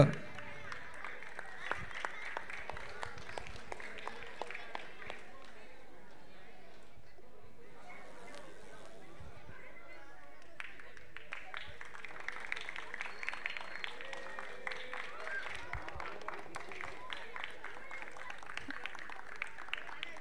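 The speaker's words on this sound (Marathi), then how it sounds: "जोरदार टाळ्या झाल्या पाहिजे मित्रांनो" A crowd applauds at a prize ceremony for a rainy-season football tournament as the under-11 runner-up team is honoured. Steady, fairly faint clapping continues throughout, with a voice speaking over it.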